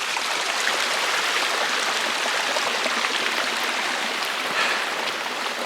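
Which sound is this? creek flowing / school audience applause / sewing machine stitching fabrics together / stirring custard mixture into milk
creek flowing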